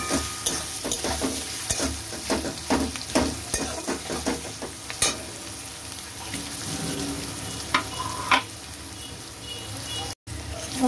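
Onion frying with garlic in a pan, a continuous close sizzle punctuated by repeated scraping strokes of a spatula, busier at first and then settling into a gentler hiss.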